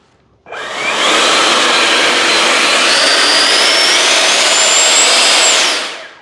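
A 70mm ducted fan on an E-flite F-16 Thunderbirds RC jet spools up abruptly to a loud, steady, rushing whine, holds at full power for several seconds, then winds down at the end; no talking.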